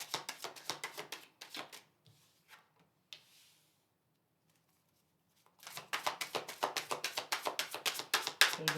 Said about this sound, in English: let's pull 4 cards for the month of March for Taurus